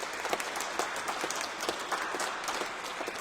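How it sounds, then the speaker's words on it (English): A lecture audience at a Hull Minster heritage talk claps steadily for the arriving speaker, a dense, even round of applause from a mid-sized crowd that holds at a constant level throughout. "If you want to give a massive, welcoming round of applause to Martin Taylor"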